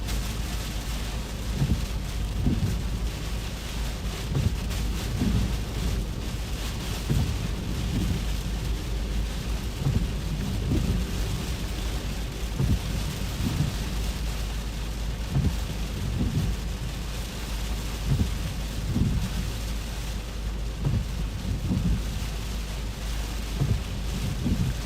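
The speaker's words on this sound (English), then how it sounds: "that wind's getting stronger now" Strong gusting wind of Storm Ciaran on England's south coast roars steadily throughout, with low rumbling buffets recurring every second or two, loud and close, with no talking.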